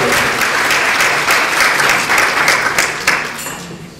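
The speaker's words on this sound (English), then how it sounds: "Give a round of applause for David Southwood." An audience at a health summit applauds steadily, a dense, loud wash of clapping from many hands that holds for a few seconds and then starts to thin out.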